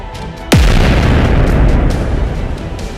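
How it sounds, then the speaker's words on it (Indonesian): A single heavy boom from a foot stomped hard on the ground, a sudden loud low impact that sets off a long, dense rumbling roar which stays strong for several seconds. "Lalu ia mengangkat perisainya pelan dan menjejakkan kaki ke tanah dengan keras."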